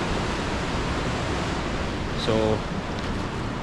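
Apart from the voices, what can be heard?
light rain on the Everest Base Camp trek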